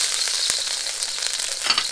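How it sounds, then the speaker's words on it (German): Chili frying in a little oil in a pan over a gas camping stove, a loud, close, steady sizzle with crackling spits throughout and no talk. "mit ein bisschen weniger Öl geht es jetzt weiter und wir braten uns an Chili"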